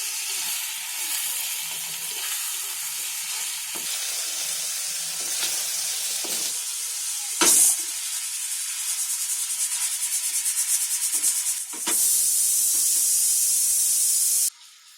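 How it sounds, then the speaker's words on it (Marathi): A kitchen pressure cooker cooking amti lets out steam with a sharp hissing whistle, a close, high-pitched sustained blast near the end after a softer background hiss. "आमटीसाठी एक शिट्टी झाली आहे कुकरची"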